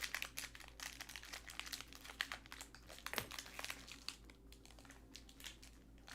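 Thick Bowman Draft trading card packs, 2019–2020 jumbo format, being cut open: close crinkly foil rustling with scattered sharp snips and crunches, fairly quiet and continuous, no talking.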